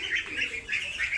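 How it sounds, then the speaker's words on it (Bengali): Pet ducks run about and play, giving quick, repeated chirpy calls in a short burst close to the microphone. "দেখেন আমার হাঁসগুলা কীভাবে দৌড়াদৌড়ি করছে,"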